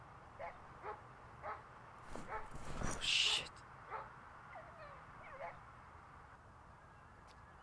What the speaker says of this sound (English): Seems to be a few dogs out there.